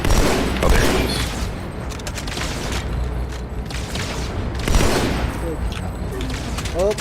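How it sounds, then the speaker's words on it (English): Dense Halo 2 video game combat, with repeated booming gunshots and explosions thumping over a constant noisy battle, while a player talks now and then. "I need you to snipe those things."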